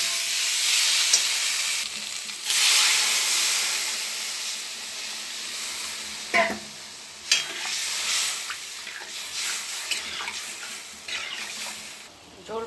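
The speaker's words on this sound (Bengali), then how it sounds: "ঝোল ফুটে গেল, এবার মাছগুলো দিয়ে দেবো" Fish curry gravy boiling in a pan, a steady bubbling hiss with brief clinks and stirring scrapes, moderately close and with no talk.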